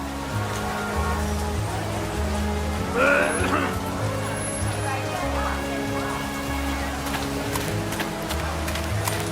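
Steady rain patters throughout a scene in the video game World of Goo 2, a constant wash of drops layered under game music with tonal notes and a brief brighter splash near the middle.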